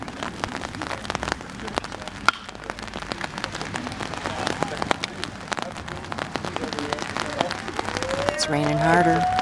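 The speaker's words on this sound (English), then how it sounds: "It's raining harder." Heavy rain patters and spatters on hard surfaces throughout, with sharp drops close by, and a faint rising tone near the end.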